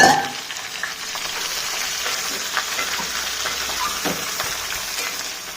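Chicken pieces and onions fry in a pan for coriander chicken pulao, giving a steady close sizzle that starts loud and settles into a continuous crackling hiss with occasional small pops, without any voices.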